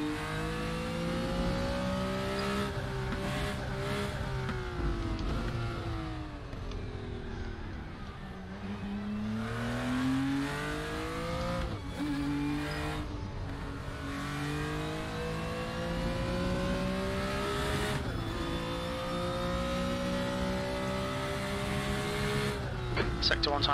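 BMW M1 Procar engine racing in Raceroom: a steady, loud engine note climbing and dropping through gear changes on a lap, with brief dips under braking and someone talking over it now and then.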